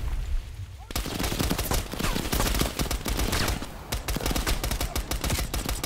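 Dense, continuous automatic gunfire from a Call of Duty: Cold War campaign battle rattles close and loud in rapid overlapping bursts, starting abruptly after a brief quieter moment.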